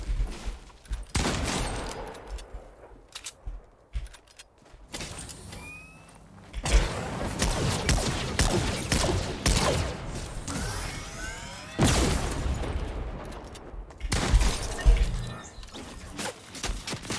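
Iron Man's weapons firing in Fortnite, loud bursts of blasts and energy beams coming in several separate salvos with quieter gaps between them.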